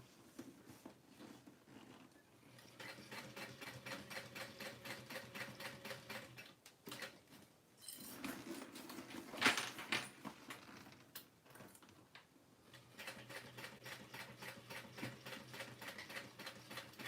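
A sewing machine stitching through bulky tote bag fabric, running in steady rapid bursts with short pauses between, close and moderately loud, no talking.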